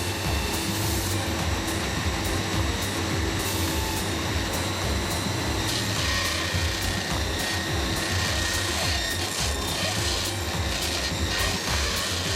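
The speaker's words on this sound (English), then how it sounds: "a robot smooths out any rough edges by rubbing them on sandpaper" A factory robot rubs brass water tap bodies on sandpaper, making a steady, dense mechanical grinding and whirring with machinery noise running throughout.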